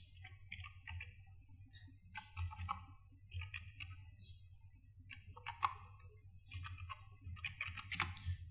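Quick bursts of keystrokes on a computer keyboard, light and fairly close, come in uneven clusters over a steady low hum with no talking.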